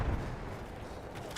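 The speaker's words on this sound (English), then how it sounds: "Oh my god, who just sniped me?" A single sharp rifle shot in Battlefield 1 cracks out near the end of a short stretch of distant battle rumble.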